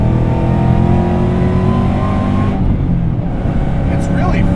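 A modified 2007 Saleen S281 Extreme's engine runs loud and close with a steady, heavy rumble, then rises briefly as it is revved near the end.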